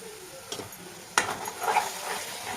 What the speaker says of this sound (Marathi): आता आपण याच्यामध्ये आपल्या वाटलेल्या टोमॅटोची प्युरी घालून घेऊया व ते मिक्स करून घेऊया